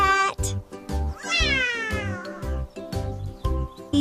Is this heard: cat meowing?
yes